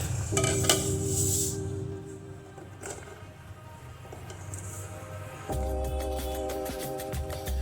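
Onions and green chillies tossed together in a bowl for a salad pickle, giving clinking dish and utensil sounds with scraping and stirring in bursts, close and moderately loud, with no talking.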